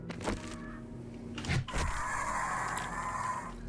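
A bird in the 7 Days to Die game gives sudden sharp flapping bursts and a shrill squawk, then a sustained tonal call that stands alone over quiet background.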